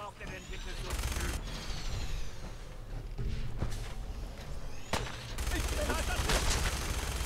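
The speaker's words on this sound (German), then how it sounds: "Wir brauchen nur noch eine ordentliche Waffe und das wäre in dem Fall dann die Minigun" Minigun fire in Fallout 4, long sustained rattling bursts with short pauses between them, loud and close, mixed with game noise and with voices talking over it.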